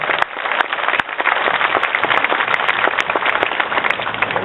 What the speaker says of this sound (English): let's give another big round of applause to Captain Matt Dindo for his leadership.